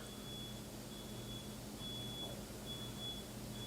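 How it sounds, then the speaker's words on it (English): Faint, short electronic beeps repeat in an irregular pattern high above a steady low hum, with no voices. "Something's beeping. I don't know what it is."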